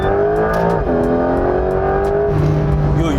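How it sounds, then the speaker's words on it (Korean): A Porsche 992.2 911 GTS engine revs hard at high rpm, a loud, close, sustained howl with a strong rising pitch and a brief dip around the gear change before climbing again. "이렇게 엔진 고음을 끝까지 즐길 수 있는 거죠."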